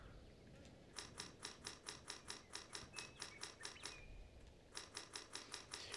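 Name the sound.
clicking of a game controller's square button being mashed repeatedly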